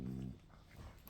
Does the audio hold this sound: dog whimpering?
yes